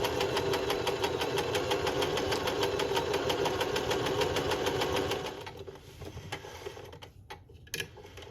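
A Kenmore sewing machine runs steadily, sewing a zigzag stitch through fabric with a fast mechanical chatter. It stops after about five seconds and a few quiet clicks and handling sounds follow.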